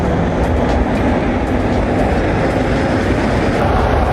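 A Paris Metro line 5 train rumbles near the Quai de la Rapée station: a loud, continuous low roar of rolling wheels and carriages, steady throughout, with no talking.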